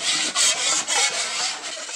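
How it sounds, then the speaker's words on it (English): A steady, gritty scraping of a sharpened putty knife dragged across drywall mud, continuous strokes with brief pauses, close and fairly loud. "I always start the sanding step using that same sharpened putty knife"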